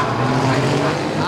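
Race cars speed past at the Music City Grand Prix in a continuous loud engine roar with rising and falling whine, voices mixed in.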